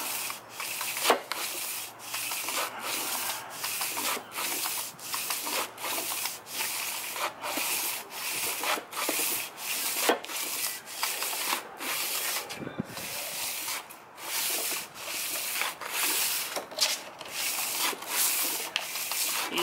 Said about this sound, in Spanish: nomás lo deslizan con la lija entre medio, y esto lo que causa es que estamos limpiando